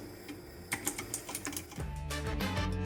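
Typing on a FINEDAY 3.0 full-aluminum Bluetooth mechanical keyboard with aluminum body and keycaps and a classic typewriter-style design: a few sharp separate key clicks, then a fast, dense run of close keystrokes.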